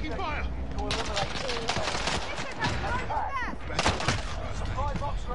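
Dense gunfire and explosions from Call of Duty Warzone on Rebirth Island, loud and continuous with overlapping bursts and sharp cracks, mixed with game voice chatter.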